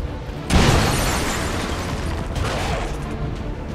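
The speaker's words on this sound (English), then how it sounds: "Throwing grenade!" A grenade blast in the video game XCOM 2 erupts half a second in as a loud, close boom that rolls into a long rumbling, crackling decay, with a second swell of debris noise toward the end and no voices.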